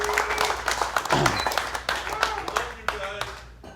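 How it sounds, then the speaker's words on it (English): A small audience at a swordfish fishing symposium gives a short round of applause, with uneven individual claps near the microphone and a few people talking and calling out over it. "but a little round of applause for these guys."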